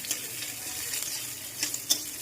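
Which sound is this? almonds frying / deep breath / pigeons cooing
almonds frying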